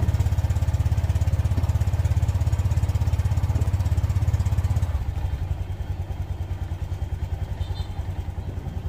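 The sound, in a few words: motorcycle engine started and idling after CVT cleaning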